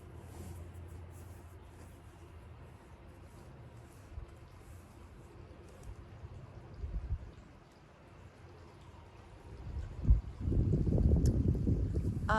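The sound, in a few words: wind blowing outdoors in Arizona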